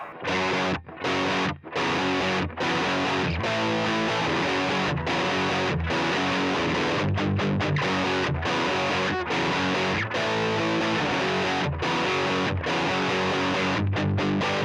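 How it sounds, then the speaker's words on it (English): Gritty overdriven electric guitar through a very cheap distortion pedal plays a busy riff of chugging chords and quick picked notes, loud and continuous with tiny gaps between phrases. "It's definitely not a bad distortion sound, but it's not my particularly favorite."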